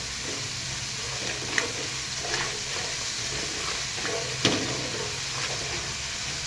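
A lemon juice mixture fries in a pan for lemon bhadang, a steady close sizzle and hiss with a few small pops and stirring taps, with no talk over it.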